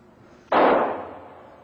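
A single sharp gunshot from a simulated bank robbery film, sudden and fairly loud, with a short ringing decay and no other sound around it.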